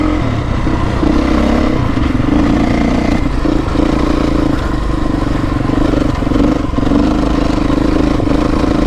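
A Beta 350 motorcycle engine lugs at low revs, a loud, close, steady low rumble with mechanical clatter that runs unbroken through the whole stretch, with no speech.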